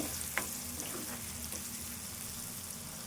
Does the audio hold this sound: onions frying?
yes